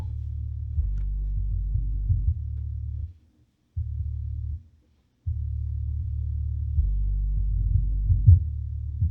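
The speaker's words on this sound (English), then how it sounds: "It's rattling the floor." A Vevor 8 inch under-seat subwoofer plays deep bass that rattles the floor in pulsing bursts with two short silent gaps. The sound is heavy, throbbing low rumble with no talking.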